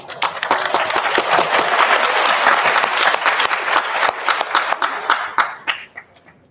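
Audience at a Srimad Bhagavatam lecture breaks into dense, sustained clapping that fills the room, then thins into scattered individual claps before fading out.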